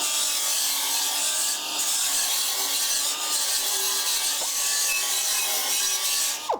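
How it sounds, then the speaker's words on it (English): A Dynabrade belt tool runs its slack belt section against a metal edge to deburr it, giving a steady, loud abrasive rasp over a constant motor whine that holds for several seconds before cutting off sharply. "We're running the slack to deburr the edge."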